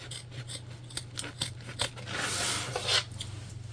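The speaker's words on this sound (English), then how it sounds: "we're just going to trim off some of this excess right now" Scissors snip through excess fabric while sewing a bag, producing a few close, crisp cutting and rasping strokes with short pauses between them, with no talking over the sound.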